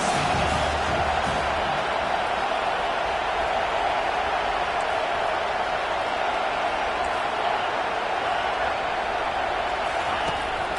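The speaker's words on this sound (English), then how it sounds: "this crowd will blow out a vocal cord to help this defense" A football stadium crowd at an NCAA game roars continuously at a distance on a third down, a dense sustained wash of cheering with no clear breaks.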